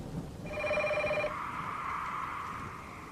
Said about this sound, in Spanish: No pasaron ni 15 minutos cuando mi celular sonó.